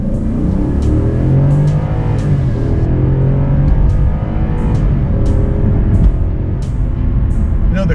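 A Genesis G90 sedan in sport mode accelerates hard on a road, its engine note rising steadily and loud from inside the cabin, with rhythmic ticking from the car and no talk.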